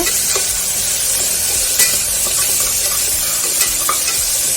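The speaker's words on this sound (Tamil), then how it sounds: "நல்லா தக்காளி வெங்காயம் எல்லாமே நல்லா சுருள வதக்கணும்" Small onions and tomatoes sautéing in a pan for a chicken biryani, giving a loud, dense, continuous sizzle with faint scraping from stirring throughout, and no voices.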